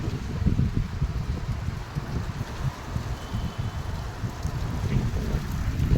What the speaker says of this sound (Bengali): এখানে সব থেকে বড় সমস্যা বাতাস হলে বালি উড়ে, সরাসরি বালি